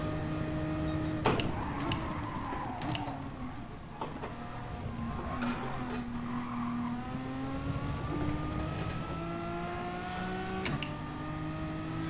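A race car engine in a racing video game drones steadily, with gear shifts and rising and falling revs over laps, moderately quiet and continuous with no talking.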